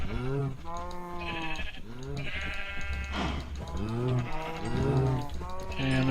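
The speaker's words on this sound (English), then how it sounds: "Wow, there's lots of cows in here." Several cows in the Minecraft modpack Agrarian Skies moo one after another, loud and close, in long drawn-out calls that overlap and fill the whole stretch.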